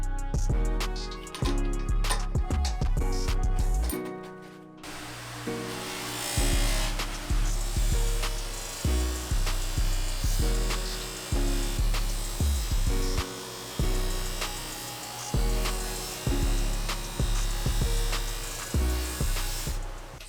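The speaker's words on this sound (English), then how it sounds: "I'm gonna throw some wheels on the bench grinder and see if I can clean this up." A bench grinder with a polishing wheel and green compound works a rusty two-stroke exhaust pipe from a Suzuki RM250, first a steady machine whir, then a continuous buffing hiss with rhythmic rubbing pulses as the pipe is pressed and shifted.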